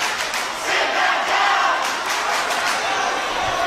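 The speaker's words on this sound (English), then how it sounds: "Crowds are really getting into it right now." A loud, continuous crowd roar and cheering fill a high school boys varsity basketball gym, with shouting and clapping blended throughout.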